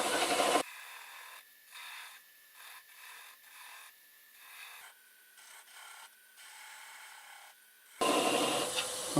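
A gouge cuts cherry plum wood spinning on a lathe, giving a series of rhythmic scraping bursts with short pauses between passes, bracketed by louder lathe noise at start and end.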